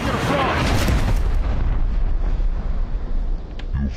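A mortar fires smoke rounds in a combat video game, a loud, heavy boom with a long rumbling tail fading over a few seconds, close and dominant.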